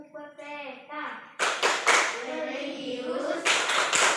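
Children's hands clap the Tepuk PPK classroom clapping rhythm in quick patterned bursts, close and fairly loud, mixed with a voice and chatter.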